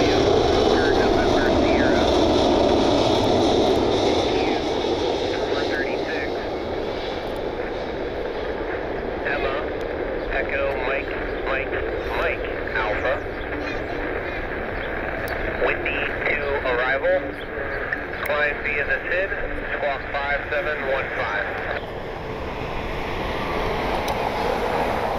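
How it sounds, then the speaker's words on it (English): Jimmy Haslam's Dassault Falcon business jet takes off, a loud, sustained jet roar and whine that holds steady and gradually shifts, with wind noise and people talking over it. "Jimmy Haslam's Falcon taking off."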